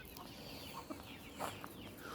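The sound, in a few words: chickens clucking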